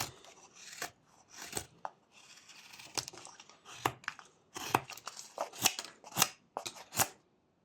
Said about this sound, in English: And then continue those stop cuts to make this part flat.